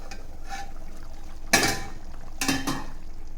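A metal pot lid is lifted off a simmering garlic tamarind curry with two distinct clanks and scrapes over a low background hiss, close and fairly loud.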